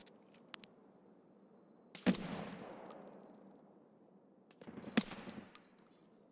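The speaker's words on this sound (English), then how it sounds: "He was shooting at somebody else." Gunfire in Escape from Tarkov (SPT) on PC: two sharp, loud shots a few seconds apart, each followed by a rumbling echo that decays slowly, with faint clicks and movement between them.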